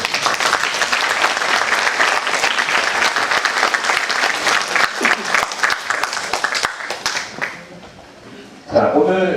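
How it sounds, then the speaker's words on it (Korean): Audience at a mayoral candidates' social welfare policy debate in Yongin gives sustained, dense applause that fades near the end before a voice begins speaking. "다시 한번 감사와 경례의 박수를 드리겠습니다"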